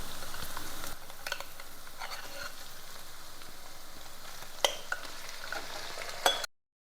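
Marinated chicken pieces hit a hot pan and get stirred on high flame for a Kerala-style chatpata chicken fry, giving a steady close sizzle with scraping spoon strokes and a few sharper clinks near the end.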